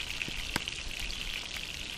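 Fish sizzles in a frying pan, a soft steady crackle and hiss with a few sharper pops, close but fairly quiet, no voices.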